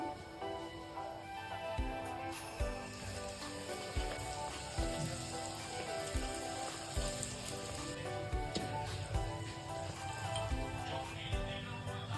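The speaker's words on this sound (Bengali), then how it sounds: "তেলটা গরম হয়ে গেছে লুচিগুলোকে দেখো আমি সব বেলে নিয়েছি এখন একটা একটা করে দিয়ে দিচ্ছি" Pea-stuffed kachori dough rounds dropping into hot oil one by one and deep-frying, a steady close crackling sizzle with periodic splashes and thumps as each round goes in.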